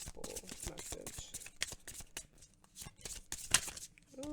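Oracle cards being shuffled by hand, giving a run of quick papery riffles and soft slaps close up, with short pauses between bursts and a voice talking quietly in places.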